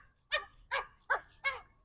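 A small dog gives four sharp, evenly spaced barks, close and clear against a quiet background.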